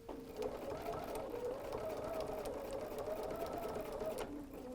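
A sewing machine stitches fabric for a folded star hot pad, a steady close whirring hum with a rapid needle rhythm running continuously, ending with a brief click.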